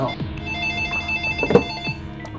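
A telephone rings with a repeating electronic tone, moderately loud, over a faint background hum and a few soft knocks.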